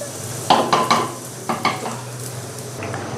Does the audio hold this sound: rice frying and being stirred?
yes